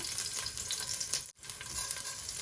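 Bay leaves and a few garlic cloves fry in a modest amount of olive oil, giving a steady, close crackling sizzle with a brief dropout midway before the sizzle resumes.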